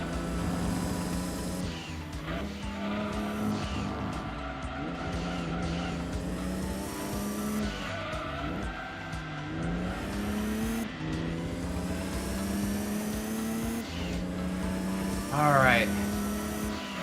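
Race cars in Gran Turismo 2, an Impreza battling an RX-7, drone with high, shifting engine whines that rise and fall through the gears, with a sharp tire squeal near the end and a voice talking over them.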